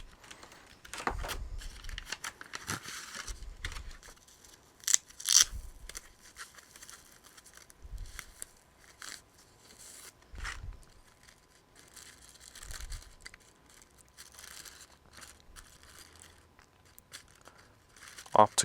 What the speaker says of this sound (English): Really difficult to cut this stuff.